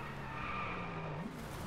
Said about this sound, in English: Here we go, hard on the brakes.